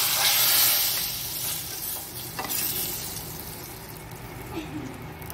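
Hot tempering (baghar) is poured into dal gosht, raising a loud, steady sizzling hiss that peaks early, then settles into a softer, continuous crackle over the whole stretch.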